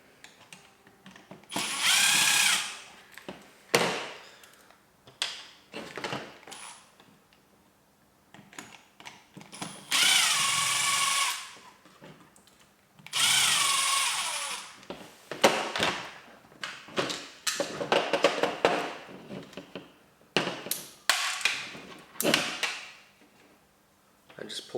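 A power screwdriver whirs in several short bursts as it undoes screws on a Cyma Scar gel blaster, interspersed with clicks and plastic handling noises, while someone talks between runs.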